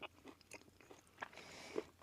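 Crunchy bites and chewing of heavily charred, charcoal-crusted food, eaten outdoors on an overnight desert camp in Arizona, with several close, crisp crunches spread across a couple of seconds.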